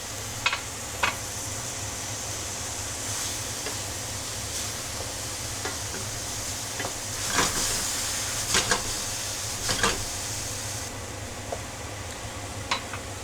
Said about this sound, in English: So you can see we're simmering right now.